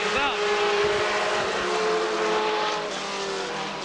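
Race cars at Columbus Motor Speedway come out of turn four under a green flag, engines roaring loud and steady with a rising and falling drone, and a commentator talks over the engine noise.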